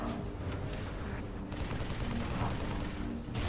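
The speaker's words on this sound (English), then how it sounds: "I'm gonna grenade launch it." A grenade launcher fires in the video game Halo 3: ODST, giving loud, rapid bursts of booming gunfire that repeat over a few seconds amid the game's noisy combat.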